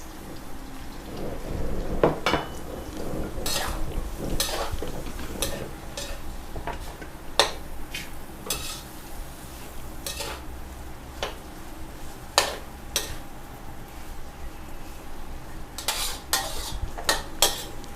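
Glass noodles and onion being stir-fried in a pan, with repeated sharp scrapes and clinks of a utensil against the pan over a steady hiss, close-up with no talking.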